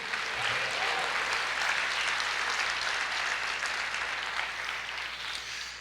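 A church congregation applauds the Lord during a sermon, a steady wash of clapping from many hands that holds at an even level throughout with no voices over it.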